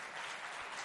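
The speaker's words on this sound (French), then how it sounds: "Applaudissez bien fort pour vous" A studio audience at a children's school-contest show applauds, a brief, dense, even roar of clapping with no voices.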